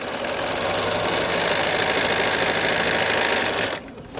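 A sewing machine runs steadily as quilt block pieces are fed through, a dense close mechanical whir that holds for nearly four seconds before cutting off.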